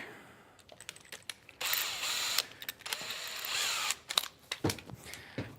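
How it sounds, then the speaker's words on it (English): Power driver backing out over-driven locating screws in the rear of a van kitchen galley, with sustained whirring bursts broken by short clicks and handling knocks, close and fairly quiet. "I've got some locating screws in the back and I drove them in too far, so I need to back them out really quick."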